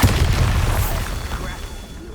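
Bombarda explosion spell in Hogwarts Legacy, a single deep booming blast that opens loud and decays into a rumbling tail, up close.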